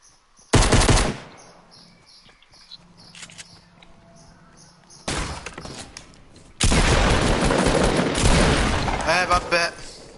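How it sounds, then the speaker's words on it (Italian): Loud bursts of automatic gunfire sound in an Italian-language shooter video game, a short volley, a second burst, then a longer sustained stretch of shooting, with people talking in between. "Eccolo, vi sparano."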